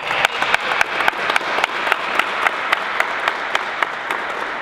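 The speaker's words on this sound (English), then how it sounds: "Please give her a round of applause." Audience applause at a press conference on police accountability, a dense steady wash of many hands clapping with sharper individual claps standing out, loud and continuous without a break.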